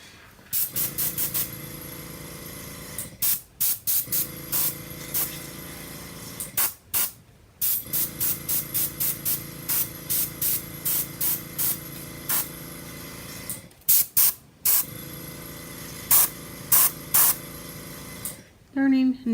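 A spray bottle of acrylic paint gets pumped in quick bursts, sharp hissy spritzes in rapid runs with short pauses between clusters and a few mechanical clicks, close and loud.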